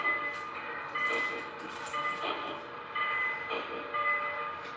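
An O scale Lionel model steam train runs along its track with a continuous rolling rumble, broken by repeated short whistle or horn toots at steady intervals, fairly close.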